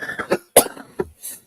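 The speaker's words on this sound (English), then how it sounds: "that cough's looking bad" Several harsh coughs in quick succession, close and fairly loud, with a short pause before a final rougher cough and a fainter trailing one.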